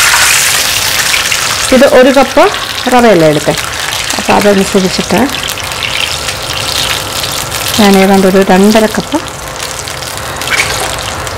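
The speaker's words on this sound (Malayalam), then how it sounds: "ഈ ഒരു സ്റ്റേജിൽ നമ്മൾ വെള്ളം അളന്നൊഴിക്കാം." Measured water gushes into a pan of lightly browned onions for broken wheat upma, a steady pouring wash running beneath close talking throughout.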